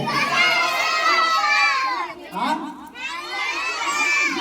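A crowd of children at a church vacation Bible school shouts loudly in unison, two long sustained bursts with a brief dip between, close and filling the room.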